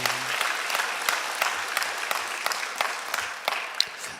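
Steady applause from a sizable church congregation after a choir's hymn at a Wednesday service, dense clapping that holds evenly for a few seconds without voices standing out.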